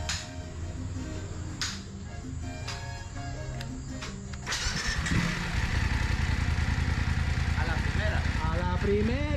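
A repaired motorcycle engine cranks and catches about halfway through, then settles into a steady running idle, with background music and voices underneath.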